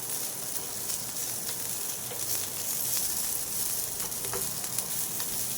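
Flowers frying in an aluminium wok as a wooden spatula scrapes across the pan, a steady sizzle with a few light scraping strokes, fairly quiet and close, no voices.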